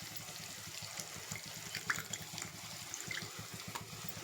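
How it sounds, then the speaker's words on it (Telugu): Water pours steadily into tamarind in a kitchen pot for a raw-mango fish curry, a soft, quiet trickle with light splashy texture and no talking. "మళ్ళీ చింతపండులో కొంచెం వాటర్ పోసి"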